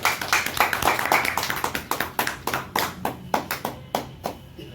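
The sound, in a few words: audience clapping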